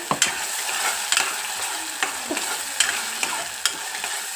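Ground masala fries with onions in hot oil for a paneer dish, a steady sizzle broken by repeated scraping stirs of a spoon against the pan at a loose, regular pace.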